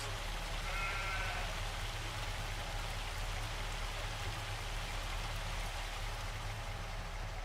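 A sheep in the Farming Simulator 25 video game gives one short, faint bleat early on, set against a steady, rain-like hiss that continues throughout.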